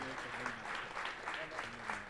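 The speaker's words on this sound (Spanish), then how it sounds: "un fuerte aplauso" Quiet, distant applause from a crowd at a prize-giving for a robot maze competition rolls on continuously while voices talk faintly underneath.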